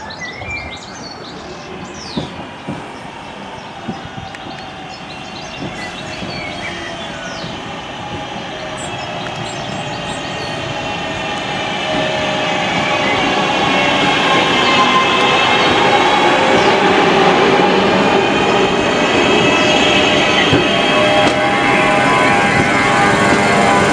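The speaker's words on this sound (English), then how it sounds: "So a train to Glossop now should be arriving to take us there." A train to Glossop on the Woodhead Route rumbles in with a long, rising mechanical drone and faint squealing tones that grow steadily louder over the whole stretch.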